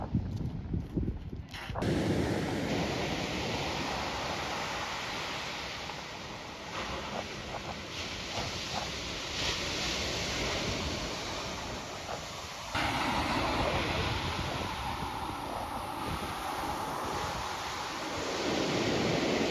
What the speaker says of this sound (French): Ah mec, il y a des vagues.